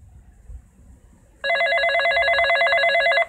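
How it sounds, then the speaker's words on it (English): A kitchen telephone starts ringing after a quiet moment, a loud trilling electronic bell that repeats steadily for nearly two seconds, clear and close with no talk. "Just then, the kitchen phone rang"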